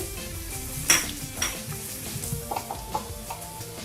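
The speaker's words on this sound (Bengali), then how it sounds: "আমি হাফ স্পুন জিরা এবং হাফ স্পুন গোলমরিচের গুঁড়াটা দিয়ে দিচ্ছি" Cumin and ground black pepper frying in a pan for a restaurant-style singara filling, a continuous close sizzle broken by a few sharp scraping stirs and light utensil taps, no talking.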